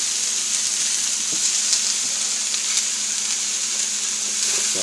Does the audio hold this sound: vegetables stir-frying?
yes